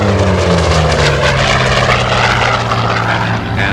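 A Hawker Sea Fury T.20 propeller aircraft with a radial engine roaring loudly and close, its deep throbbing drone steady throughout.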